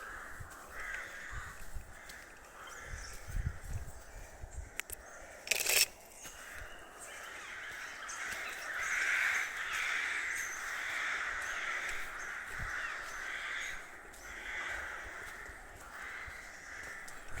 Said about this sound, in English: The birds! The birds!